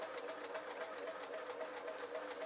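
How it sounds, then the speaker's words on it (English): A sewing machine stitches around the edge of a foam-sheet fox tail, a steady, fast, even whirr of needle strokes at low volume with no pauses. "So I'm just sewing around the outside of my tail."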